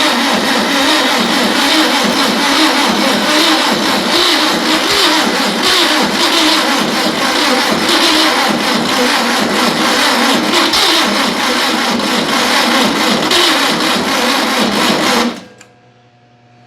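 A car engine cranks hard and steadily for about fifteen seconds, loud and close, without catching, while someone tests a freshly built carburetor setup with a working accelerator pump. The cranking then cuts off abruptly into quiet.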